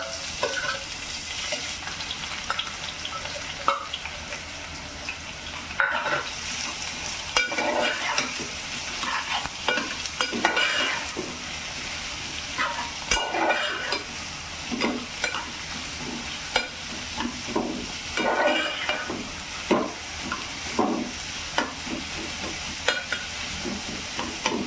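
Onion and chilli fry with cumin in a pan, giving off a continuous crackling sizzle alongside repeated scraping stirs and light utensil clinks, with no talking.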